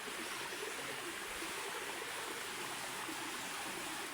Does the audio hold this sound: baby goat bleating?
no